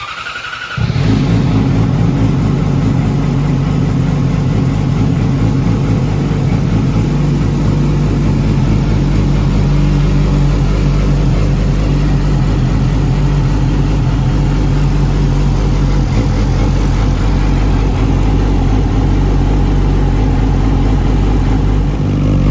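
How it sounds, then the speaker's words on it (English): A Yamaha R6 sport motorcycle fitted with a GPR V5 steering damper rides around the block, its engine a loud, steady drone close by with a continuous mid-pitched hum throughout and no talking. "I'm gonna take the bike for a little burn around the block"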